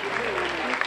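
An audience claps at the Reines des Sables 2013 pageant gala, a brief, dense burst of applause lasting under a second with a voice audible through it.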